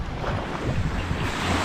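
Sea surf washing steadily onto the shore near moored fishing boats, with continuous broadband roar of waves and some wind buffeting the microphone, no voices.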